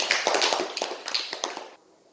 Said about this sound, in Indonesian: Kita kasih tepuk tangan dulu untuk Cika